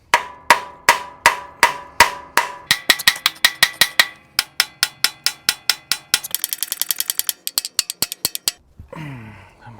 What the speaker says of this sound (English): So I'm gonna beat it with a hammer, see if that'll shock it